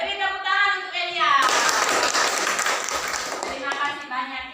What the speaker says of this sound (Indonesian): Oke, beri tepuk tangan untuk Elia.